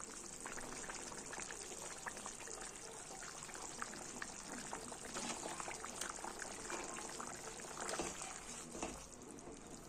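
Fish curry broth with cauliflower and potato bubbling at a full boil in a pot, a dense, steady burbling hiss with small popping bubbles throughout, close and fairly quiet, with no voices.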